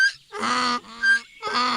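A donkey brays loudly and harshly in a story, three long honking blasts with short gaps between them, close and unaccompanied.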